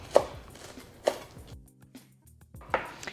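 A knife rough chops cilantro and mint on a cutting board, striking in three sharp, separate thumps with quiet gaps between them.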